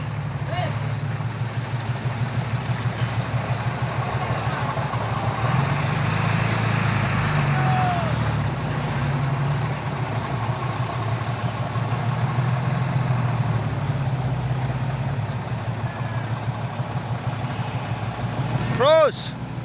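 A truck engine idles nearby with a steady low rumble that carries on throughout, while people talk and call out over it and a brief squeal sounds near the end.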